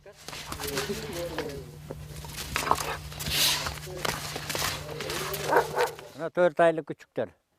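Four-month-old purebred Kyrgyz taigan and Kyrgyz sighthound puppies at a mountain livestock farm give loud, close yips and barks that cluster toward the end, following a stretch of voices talking over steady background noise.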